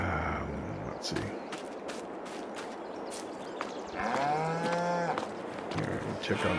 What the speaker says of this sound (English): Here, check on the cows.